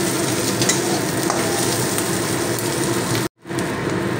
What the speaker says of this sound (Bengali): তো ভাজা ভাজা হয়ে এসছে, আর একটু সময় নাড়াচাড়া করে নেব।